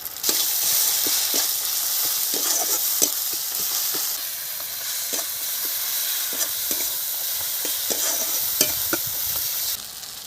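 Spices being fried and stirred in a pan for a chicken curry, a steady sizzle punctuated by repeated sharp spoon taps and scrapes at an irregular rhythm, close and fairly loud.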